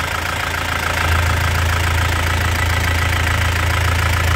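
A 2006 car engine idles steadily with the hood open, a loud, even low rumble that runs the whole time with no other sounds over it.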